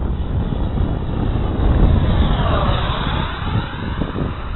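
A Vortex 32 RC jet powered by a 90mm 1000KV electric ducted fan on 8S lipo, a steady loud whooshing whine that shifts in pitch as it passes, with some wind noise on the microphone.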